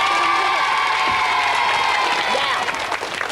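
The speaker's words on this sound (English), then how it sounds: "Let's give Thomas a big clap." A studio audience claps and cheers loudly at a 1985 children's TV show, with children shouting and whooping over steady applause that tapers slightly at the end.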